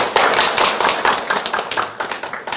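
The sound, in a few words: audience applause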